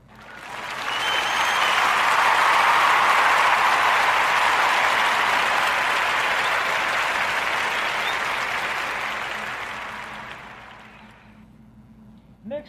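A podcast audience breaks into a warm, dense round of applause that swells quickly, holds loud and steady for about ten seconds, then tapers off and fades out.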